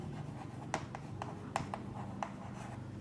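Chalk or a marker scratches and taps across a board during a chemistry lecture, sounding as a series of short, distinct strokes at a steady pace against a quiet classroom background, with no speech.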